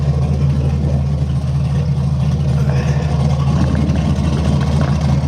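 Car engine idling just after a cold start in 17-degree weather, its turbo muffling the noise; a steady, fairly quiet low hum runs evenly throughout with no talk.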